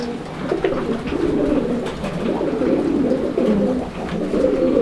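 A male pigeon coos repeatedly up close, low throaty rolling calls in a steady rhythm with short pauses between phrases, loud and clear with no talk.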